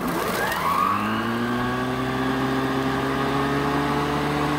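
A Greenworks Pro 80-volt dual blade electric lawn mower spins up on turbo, its whine rising quickly and then settling into a steady, loud hum with layered motor tones, close by and with no talk.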